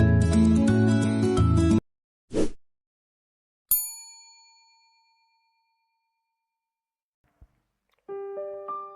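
A notification bell sound effect rings out as one bright ding with a long decaying ring, set between a burst of music, a short whoosh and a closing chime of tones, separated by silence.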